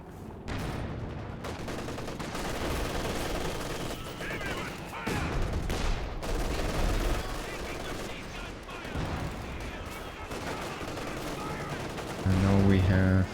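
Repeated gunfire and artillery barrage thunder through a real-time strategy game battle, a dense continuous roar of shots and blasts with a louder burst of impacts near the end; a commentator talks over it.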